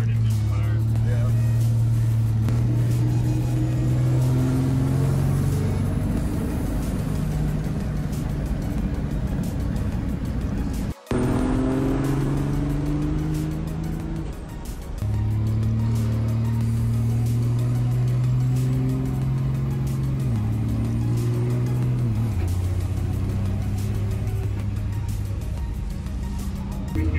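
A car fitted with a D&J Powerplant engine drives along, its loud, close engine note droning low and rising and falling with shifts and throttle changes, with a brief dropout partway through and talk in the cabin.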